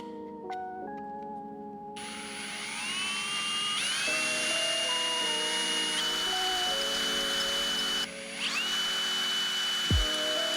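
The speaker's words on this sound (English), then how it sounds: "drill out all these dimples and then see if it can sit flush" A power drill bores out dimples on a metal mounting bracket for a Dasaita Vivid 11 head unit in a 2005-2015 second-generation Toyota Tacoma. A steady, close whine rises and drops in pitch as the speed changes, with a brief stop near the end.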